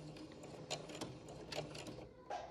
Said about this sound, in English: we are going to stitch over it, back stitch it and hold it